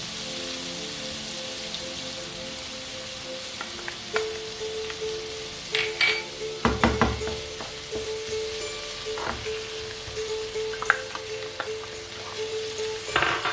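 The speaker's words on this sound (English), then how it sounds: "the onions have to lightly saute" Onions and butter sautéing in oil beside fried walnuts and meatballs, a steady soft sizzle broken by clusters of spoon clatter and stirring scrapes.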